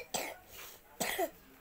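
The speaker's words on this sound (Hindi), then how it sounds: "बड़ी खांसी हो रही है आपको ना" A child coughs twice, close and fairly soft, with a brief pause between the two harsh bursts.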